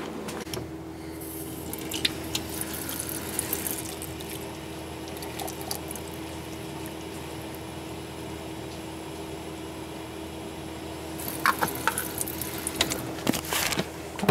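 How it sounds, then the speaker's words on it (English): Water is poured into a container to fill a pumpkin-patch soil testing kit, a steady close trickle and splash running alone with some handling knocks near the end. "we'll give her some more water and fill her up"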